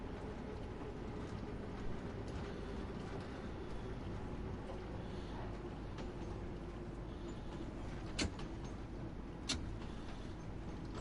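A train in Train Sim World 2 rolls steadily along the rails, making a faint, continuous low rumble. Two sharp clicks stand out near the end, like passing over rail joints.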